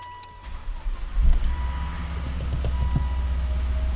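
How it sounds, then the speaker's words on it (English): A Volvo V70R engine cranks and catches, the low rumble rising after a second and then settling into a steady idle with some clicking and ticking on top. "Now we can turn the car on and see what it thinks."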